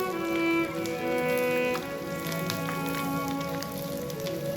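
Minced garlic sizzles as it hits hot oil with frying crab pieces in a pan, a steady crackling hiss with dense spitting pops, close and fairly loud, alongside a faint tonal hum.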